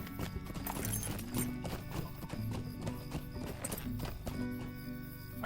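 Horse hooves clip-clop steadily in Lord of the Rings Online, a walking gait running under a dense layer of game music, with a brief whinny possible.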